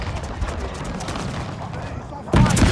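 Cannon and musket fire crackle and rumble through a Carlist War battle in a video game mod, a dense distant fusillade under speech, followed by a louder, closer blast near the end.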